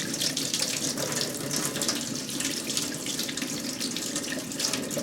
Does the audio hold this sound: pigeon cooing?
no